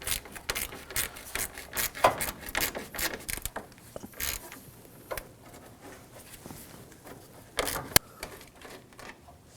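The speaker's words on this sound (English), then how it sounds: "we're gonna remove these two 10mm bolts using a 10mm socket" Ratchet with a 10mm socket backing bolts off an Acura MDX, giving bursts of quick clicking and scattered metallic taps, close and fairly quiet, without talk.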